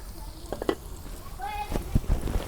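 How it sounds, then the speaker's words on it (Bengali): Vegetables hit hot oil and spices in a pan, giving a soft sizzle with a few sharp clinks and stirring knocks, fairly quiet, in a village outdoor cooking setting. "মশলা না তেল দিয়ে ভালো করে কষে নিলাম এখন সবজি দিয়ে দিই"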